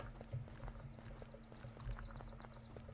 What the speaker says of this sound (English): So listen to my footsteps.